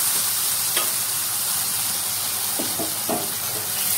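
Snake gourd and cooked chana dal for kootu are stirred in a pan over a soft steady sizzle, with a few faint spoon scrapes and clicks close by and no talking.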